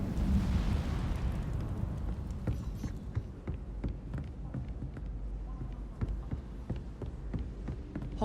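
Incendio fire spell cast in Hogwarts Legacy: a loud fiery whoosh and rumbling burst up front, settling into a steady roaring, crackling burn with scattered sharp pops.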